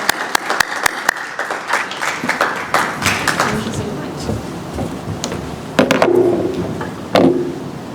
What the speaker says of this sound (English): Give a warm welcome and round of applause for you